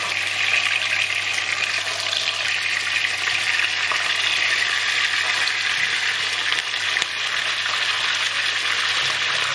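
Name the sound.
fish frying in oil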